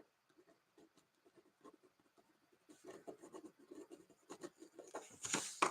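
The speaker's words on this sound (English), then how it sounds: "I'm going to write you down first." A pen scratches names onto paper in short bursts of strokes, faint at first and growing closer and louder, with a few brisk scribbles toward the end.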